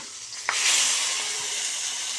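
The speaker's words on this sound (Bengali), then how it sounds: "এবার এটার জন্য আমি একটু লঙ্কা ফোড়ন দিয়ে দেবো কাঁচা লঙ্কা একটু টমেটো" Green chili and tomato hit hot oil for a tempering, giving a steady close sizzle that jumps after a sharp drop-in at the half-second mark and hisses on without pause.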